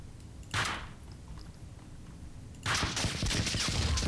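Gunfire in the video game Max Payne 2, two separate bursts of shots, a short one early and a longer sustained volley near the end, over a steady low rumble of game ambience.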